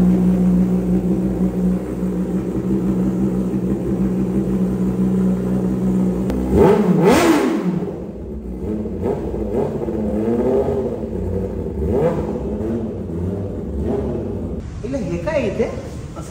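A motorcycle with a newly fitted exhaust idles with a steady low rumble, then is revved sharply once and settles into an uneven idle, close to the microphone, while voices talk over it.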